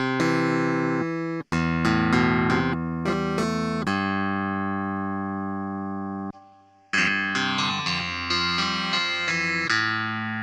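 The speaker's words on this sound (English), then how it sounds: "Clavinet classic sound." A bright, twangy software clavinet emulation plays funky repeated chords and short phrases, with a brief pause partway through.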